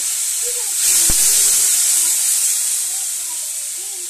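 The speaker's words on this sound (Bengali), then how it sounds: "সামান্য অল্প একটু জল দিয়ে নাড়িয়ে নেব মশলাটাকে।" A spice paste with turmeric sizzles in a pan for a fish kalia as a splash of water is stirred in, giving a loud, steady hiss of steam that holds evenly from start to finish.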